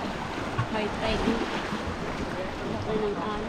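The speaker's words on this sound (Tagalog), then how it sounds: "Laki ng alon." Big sea waves at high tide wash and surge steadily along the shore, a broad continuous roar with wind, heard from close by and not masked by talk.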